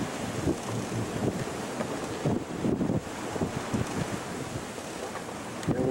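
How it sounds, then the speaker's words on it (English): Sailing yacht cruising at about 9 knots on the open sea between Fiji and New Zealand, with steady broadband wind rush buffeting the microphone and waves washing against the hull, continuous and fairly loud throughout. "Cruising along, our speed is about 9 knots, making very good time for New Zealand."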